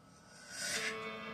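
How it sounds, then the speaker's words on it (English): A reverse FX swell in a music production, a brief rising whoosh building to a peak and easing off, heard alone over a faint sustained piano-like tone. "I added what is called a reverse FX"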